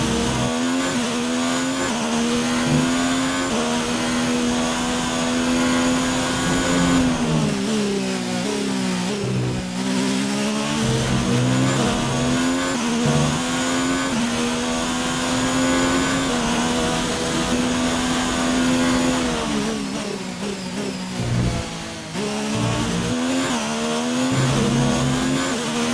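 Formula 1 race cars in the F1 19 video game scream past with steady high-revving engine whine, pitch rising and falling as gears shift, loud and continuous throughout with no talking.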